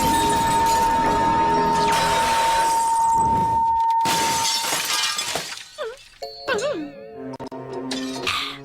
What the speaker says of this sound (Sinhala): මට උච්ච ස්වරයෙන් ගායනා කරන්න පුළුවන් මගේ කටහඬෙන් මේ වීදුරුව බිඳෙන ගානට.